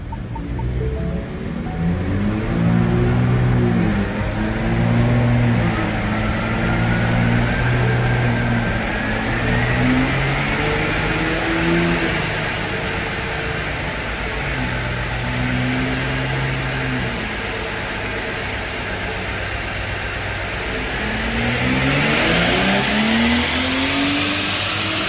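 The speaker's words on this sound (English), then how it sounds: "We're going to do a 7th gear pull." A 2022 Ford Raptor on a dyno during a 7th gear pull, engine droning loud and close with a steady rising rev, rich harmonic growl and rushing intake noise, easing off then climbing again near the end.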